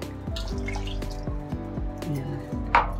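Water poured and splashed into a container holding ground spice paste for a mango raita, sounding as a close run of wet drips and rhythmic glugging with a brief sharp splash near the end.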